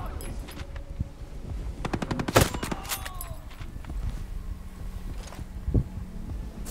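Enemy gunfire in Tom Clancy's Breakpoint, with bursts of automatic rifle shots and scattered single cracks at mid distance, one louder blast near the middle and more shots trailing off toward the end.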